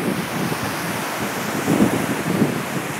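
Mediterranean sea waves washing onto an African beach, a steady rolling surf with wind buffeting the microphone, swelling slightly louder toward the end, no voices.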